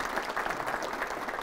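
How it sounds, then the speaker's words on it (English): A conference audience applauds, a steady even wash of many hands clapping at moderate distance, quite soft and continuous with no voices. "Can we give him applause?"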